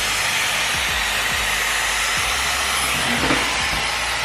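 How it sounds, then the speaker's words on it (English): A hair dryer blows steadily and loudly at close range while short hair is styled with a brush, forming a continuous broadband whoosh with faint shifts as the airflow moves. "So dry it over, but then dry it like that to the sides for it to create that nice little bend and swoop there."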